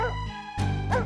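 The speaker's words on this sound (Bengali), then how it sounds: "এত রাতে কুকুরটা আবার ঘেউ ঘেউ করছে কেন?" A cartoon dog barks at night, giving two sharp loud barks close up over a steady background tone.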